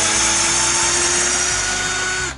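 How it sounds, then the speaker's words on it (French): A power drill bores a pilot hole in wood in a workshop, a loud, steady close whine held for about two seconds before it starts to wind down. "percer un avant-trou"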